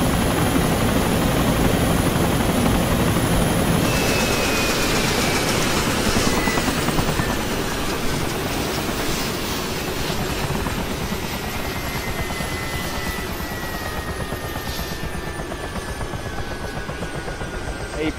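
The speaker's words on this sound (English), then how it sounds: "Why are you stealing my helicopter?" Helicopter in a multiplayer online video game, a loud steady rotor and engine drone running throughout with a faint whine sliding past, and no talking over it.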